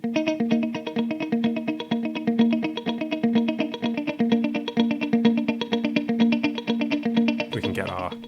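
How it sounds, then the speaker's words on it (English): A guitar through an MXR Joshua ambient echo pedal, with a crotchet primary delay and a dotted-eighth secondary delay, plays steady repeating notes that cascade into rhythmic echoes, ending in a brief noisy burst. "now I'm going to change my secondary delay to a dotted eighth"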